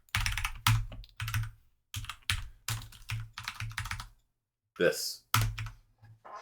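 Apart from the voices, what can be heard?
typing on a computer keyboard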